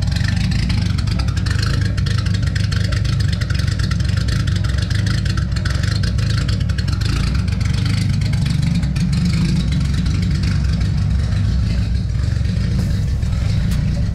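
A Nissan Skyline R33 with an RB25 engine idles a little rough, giving a steady low rumble with slight unevenness that holds close and loud throughout, with no talk over it.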